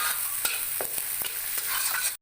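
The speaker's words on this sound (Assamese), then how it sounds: "আৰু বিলাহীখিনি অলপ কোমল হোৱালৈ মই ভাজি থাকিম।" Tomatoes fry with spices, ginger and garlic in a pan, giving a steady close sizzle broken by several sharp stirring scrapes, with no voices.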